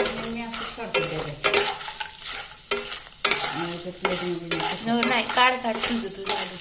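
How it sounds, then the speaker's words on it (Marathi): Dry whole spices such as cumin and cinnamon for Kolhapuri kanda lasun masala fry in oil while being stirred, with a crackling sizzle and repeated scraping strokes of a spoon against the pan. "छान असं याला तेलामध्ये तळून घ्यायचं आहे"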